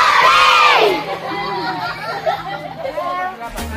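A group of elementary school children at an outdoor class outing cheer "hore" together, a loud shout that rises and then fades into crowd chatter and scattered voices.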